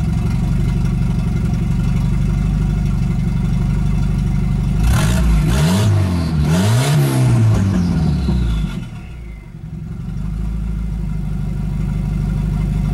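A Volvo 245 with a freshly swapped turbo idles with a steady close rumble, then revs sharply twice before settling back and dipping to a lower idle.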